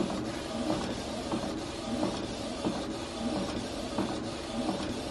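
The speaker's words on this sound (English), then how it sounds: "it's not the fastest printer, but I don't care. I only print this for my drawing" A slow home printer works through a drawing printout, giving a continuous mechanical whir with a regular rhythmic ticking and shuttling pattern, close up and steady for the whole stretch.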